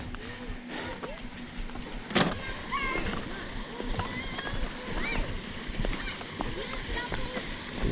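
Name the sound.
crossing a river on a mountain bike, water splashing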